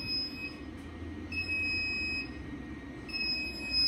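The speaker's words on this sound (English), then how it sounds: "you can hear the inverter in the background to show it's still running" High-pitched electronic whine with intermittent tonal beeps over a low hum, steady and moderately faint, from a power inverter running a kettle drawing 185 amps from a 100Ah lithium battery.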